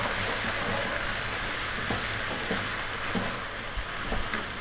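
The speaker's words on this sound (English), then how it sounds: "we're going to add in 2 tablespoons of ginger garlic paste, and we're going to stir vigorously for 60 to 90 seconds" Ginger garlic paste sizzles steadily in a pan as it is stirred, a constant hiss with faint scraping ticks from the spoon.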